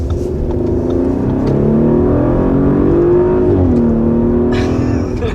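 A 2022 BMW X3 M40i or Audi SQ5 sporty SUV engine accelerates, a loud sustained rising drone that dips briefly as a gear changes, then climbs again, heard close without talk.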